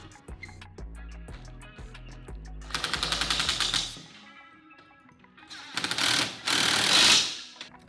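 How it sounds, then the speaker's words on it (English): Bolts on an Overland Ruff Rax roof rack for a Rivian R1S are run down with a power tool, heard as rapid rattling bursts that start, stop and rise again, loud and close, with no speech. "So now I'm going to snug up the side panel to roof bolts as well as the side panel connection bracket."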